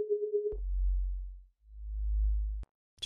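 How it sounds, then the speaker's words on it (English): Serum synth bass patch split into two layers: a short pulsing high harmonic tone, then a deep, steady sub bass note held alone, fading, returning and cutting off. "So this sound is separated into two patches. We have the main sub, and then we have the high harmonic."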